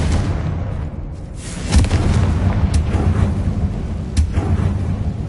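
Confringo blasting spell explosions in the video game Hogwarts Legacy: heavy, loud booming blasts with deep rumble, several sharp impacts over continuous roaring low-end noise.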